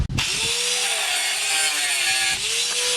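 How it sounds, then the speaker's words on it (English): Saw cutting a piece off quarter-inch metal rod stock in a workshop, one loud continuous grinding cut that briefly eases near the end, with no talk. "I'll just cut a piece off of this stock I have kicking around."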